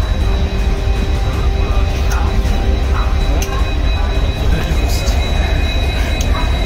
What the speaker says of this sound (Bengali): তো ট্রেন আস্তে আস্তে আস্তে করে ঢুকছে।